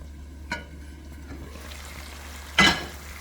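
A pot of Jamaican brown stewed pork simmering and sizzling while cornstarch is stirred in, with a steady soft bubbling bed and two sharp louder scrapes or clanks of the spoon.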